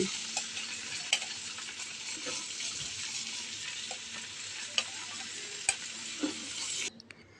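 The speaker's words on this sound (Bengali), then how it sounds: "খুব বেশি কড়া করে কিন্তু আমি মুরগিগুলোকে ভাজবো না, এইরকম হালকা করেই ভেজে নেব" Chicken pieces fry lightly in mustard oil, a steady close hiss of sizzling fat broken by occasional knocks and scrapes of a utensil in the pan, cutting off abruptly near the end.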